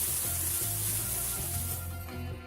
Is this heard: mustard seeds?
yes